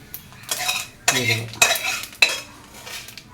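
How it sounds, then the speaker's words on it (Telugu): Spices sizzle and crackle in hot oil while a spoon scrapes and clatters against the pan in several short bursts. "ఇది పోపు వేగిపోయిందండి"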